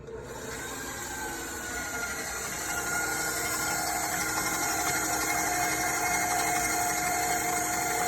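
A stand mixer beats butter and sugar with a steady, whirring motor drone and a faint rhythmic churning that grows slightly louder as it runs, with no voices.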